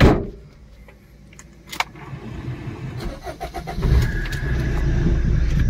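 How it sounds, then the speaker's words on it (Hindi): A Tata Vista car engine is started after a clutch slave cylinder repair: a key click, a brief crank, then the engine catches and settles into a loud, steady idle close by. "और गाड़ी को स्टार्ट करके भी दिखा दें।"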